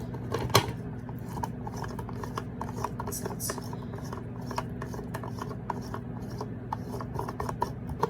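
A rotary vegetable shredder's clamp is twisted against its mount, giving repeated close rasping, rubbing clicks in an uneven rhythm over a low steady hum, with no talk.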